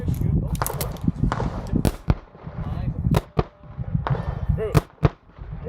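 Revolver shots fired on an IDPA stage in the revolver division, sharp loud cracks in irregular bursts of several quick shots with short pauses between them, under a steady murmur of background voices.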